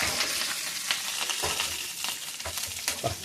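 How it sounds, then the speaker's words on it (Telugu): Lentils and bitter gourd fry in a hot pan with a dense, continuous sizzle, broken by spoon stirs and scraping bursts at uneven intervals, close and steady. "పప్పు వేసి కాకరకాయలు కూడా వేస్తున్నాను"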